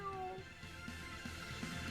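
A cat character in the video game Tales of Berseria gives a short meow, a brief high voiced call near the start, over steady game music and ambience.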